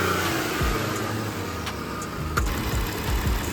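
Supercharged car engine revving and idling up close, a steady low mechanical rumble with a few brief surges in pitch over about three and a half seconds, no talking.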